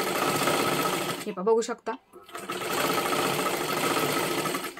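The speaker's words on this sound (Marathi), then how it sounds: "आता ह्याच्यावरती परत एकदा आपल्याला डबल शिलाई मारून घ्यायची आहे." A sewing machine runs a double stitch line with a fast, even mechanical whir, stopping briefly while someone speaks, then resuming its steady close rattle.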